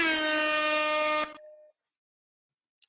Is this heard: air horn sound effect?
yes